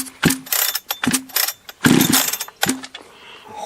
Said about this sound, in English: Alright, first startup. It did sound pretty nasty, though, when it was running.